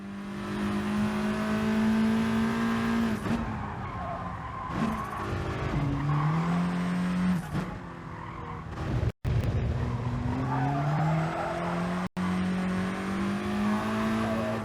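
A race car engine in Gran Turismo Sport, during a daily race at Autodrome Lago Maggiore West, revs high and drops through repeated gear changes. Tire squeal joins in at times, and the sound cuts out briefly twice.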